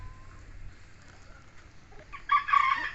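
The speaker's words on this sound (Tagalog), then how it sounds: "dami tayong manok pansalang" Chickens cluck and a rooster crows loudly toward the end, over a low steady background hum.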